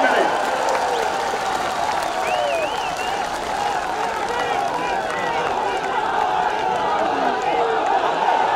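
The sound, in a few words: audience applause at a political rally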